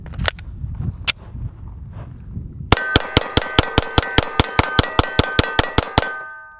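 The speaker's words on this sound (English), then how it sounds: "Just gonna mag dump on this big target." A Rock Island Armory STK100 all-metal pistol firing in a rapid mag dump at a large target, about fifteen sharp, evenly spaced close shots ringing with a metallic clang, after a few scattered knocks and handling noises.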